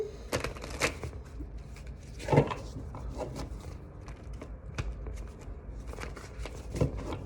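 Soft, quick riffling and slapping of tarot cards being shuffled nearby, in irregular bursts against a quiet room.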